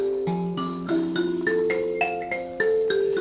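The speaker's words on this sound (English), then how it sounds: "I'm going to be playing an instrument from Southern Africa called mbira" An mbira, the Southern African thumb-plucked instrument, plays a steady melody of bright overlapping tones with ringing sustain, close and clear, with no voices.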